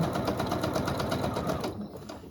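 A sewing machine runs a fast, steady stitching rhythm along a seam on a poinsettia-pattern quilted table runner, close and clear, then slows and stops near the end.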